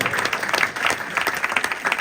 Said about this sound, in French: Est-ce qu'on va applaudir les Maliens?